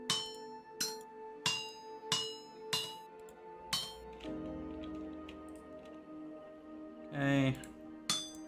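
Hammer striking metal at a smithing anvil in Vintage Story, six evenly spaced ringing clanks followed by a lull and another clank later, with a voice talking underneath.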